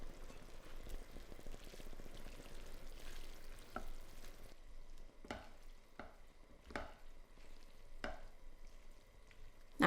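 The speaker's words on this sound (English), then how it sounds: "Stir it all together and heat through for about 4 to 5 minutes, stirring often until those noodles are hot." Prawns and noodles for Cajun prawns fry in a single pan, a soft steady sizzle broken by sharp scraping knocks as the mix is stirred, several strokes in the second half.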